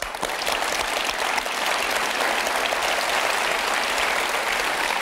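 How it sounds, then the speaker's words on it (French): A French television studio audience applauds on the set of a confession talk show, a thick, continuous wash of clapping that stays level and loud throughout with no voices over it. "on peut l'applaudir, Martine"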